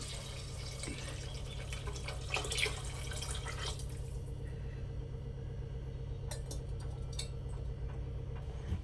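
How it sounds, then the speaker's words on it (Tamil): Coconut milk pours onto rice in a pressure cooker with a close, steady liquid gush and splash that tapers off into faint drips and light clinks. "இப்போ தேங்காய் பாலை ஊற்றிக்கலாம்"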